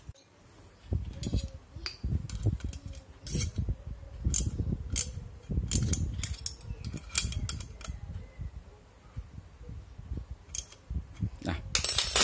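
Bolts being tightened on the extra radiator fan of a Yamaha Aerox scooter: repeated close metallic ratcheting and clicking in irregular bursts, with small knocks and clinks between turns.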